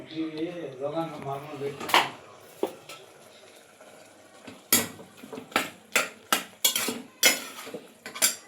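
A spoon scraping and clanking against a metal pot while ginger garlic paste is mixed into kebab meat, with someone talking at first, then a run of sharp, evenly spaced metallic knocks.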